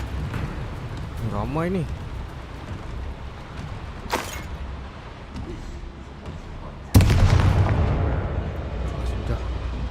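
A Bombarda spell blast in Hogwarts Legacy hits with a sudden loud burst and leaves a sustained roaring rumble behind it. Shouting voices and game clatter come before the burst, and a short bit of talk sits in the mix.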